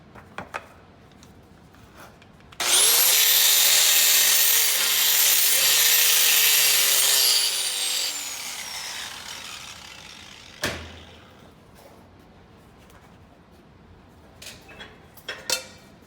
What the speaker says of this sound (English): Now when this starts to spin, that brush will flare out, and any bristle that's loose will come flying.